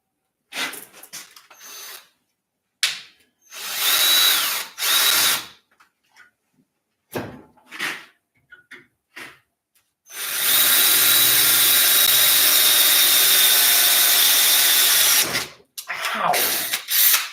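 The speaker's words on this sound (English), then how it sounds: "I bent the drill bit already." A power drill works on steering components in a garage, whirring loudly in several short bursts and then one long sustained run, with brief pauses between them.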